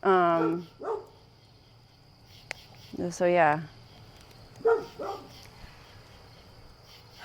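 Several dog barks in short bursts, fairly close, mixed with brief human speech and quiet pauses between.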